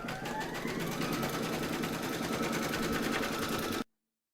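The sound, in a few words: embroidery machine stitching a placement outline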